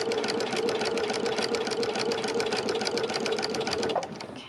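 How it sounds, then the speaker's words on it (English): A Brother sewing machine stitches with a walking foot engaged, a fast steady mechanical whir and rapid needle clatter running continuously up close, then easing off at the very end. "Every stitch, you see the walking foot also engaging and the pads are moving the fabric along."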